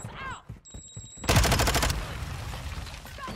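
Gunfire in a shooter video game, with a loud burst of shots erupting mid-clip after quieter high-pitched electronic tones, then fading into a lingering rumble.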